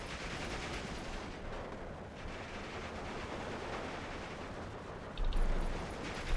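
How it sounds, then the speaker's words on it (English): Steady small arms fire in Steel Division 2, a dense continuous rattle of distant gunshots with rolling battle noise throughout and a louder burst near the end. "a couple of the guard squads getting picked off over here just by small arms fire"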